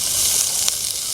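Onions hitting a hot pan for a New Orleans chicken and tasso jambalaya, a steady close sizzle with a brief sharper crackle partway through.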